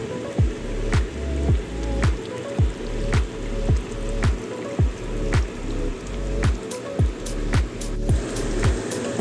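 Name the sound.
Bengali fish curry gravy simmering on medium flame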